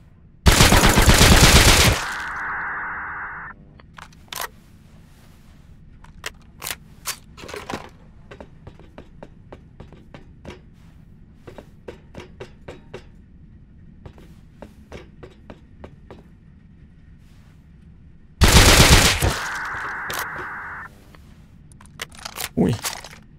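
Suppressed gunfire in the survival video game Rust: a couple of bursts of sharp shots at the start and again near the end, with scattered light clicks and footstep-like taps in between, no voices.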